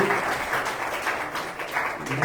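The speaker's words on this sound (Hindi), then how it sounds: "हम तालियों से स्वागत कर सकते हैं" A crowd at a Sunday evening prayer service claps continuously, welcoming a newly married couple; the applause is dense, loud and sustained with slight swells throughout.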